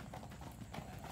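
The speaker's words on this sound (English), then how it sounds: "here's an 8-year-old Rocky Mountain horse" Hooves of an 8-year-old chocolate Rocky Mountain mare, shod in front only, clip-clopping at an auction in a steady walking rhythm, close and moderately loud with a faint background murmur.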